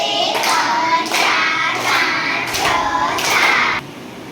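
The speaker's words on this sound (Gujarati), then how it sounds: "ચાલો સાત તાળી." Children at a village primary school clap their hands in a counting song, a handful of sharp, close claps spaced irregularly among their singing voices.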